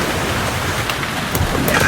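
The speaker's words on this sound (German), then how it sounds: "Es regnet seit ungefähr 8 Stunden ohne Ende." Steady rain falling outdoors during a camper van trip, a dense, even hiss throughout, close and fairly loud with no talking.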